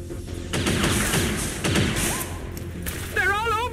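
Heavy gunfire in the X-COM video game, with a dense burst of shots and thuds at close range, followed by a brief electronic warbling tone near the end.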